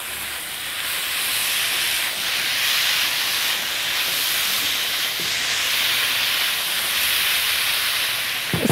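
Boiled asparagus or green beans sizzle in a hot pan, a loud, continuous, close hiss that stays even and steady throughout.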